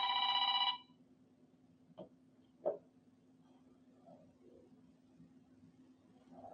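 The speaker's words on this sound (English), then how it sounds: "Little phone ringing there." A telephone rings briefly with a bright electronic trill at the start, then cuts off, leaving a quiet room hum with a couple of soft knocks.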